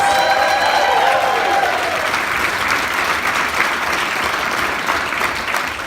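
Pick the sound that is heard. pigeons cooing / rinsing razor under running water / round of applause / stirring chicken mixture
round of applause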